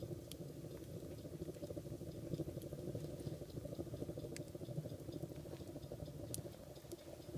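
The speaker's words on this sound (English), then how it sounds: "I got my rocket mass heater going." A homemade rocket mass heater burning steadily, its fire giving a continuous low crackling, bubbling rumble with faint scattered ticks, even in level throughout.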